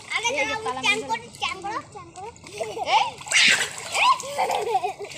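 Water splashing during outdoor bathing, irregular sloshes and splatters up close while a voice and other people talk and call out over the splashing.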